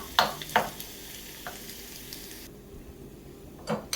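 Chopped garlic and dried chillies sauté in ghee in a pan for a spinach and paneer curry, with a soft steady sizzle broken by a few sharp stirring clinks and scrapes.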